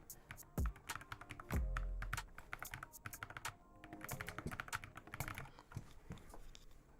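Keyboard and mouse clicks from a console gaming setup rigged to work as a gaming PC: rapid, uneven clatter of keys and taps, close and fairly quiet, running steadily throughout with a few heavier thunks.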